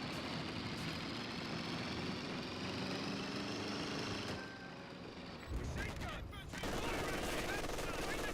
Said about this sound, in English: MG42 firing away against the assault section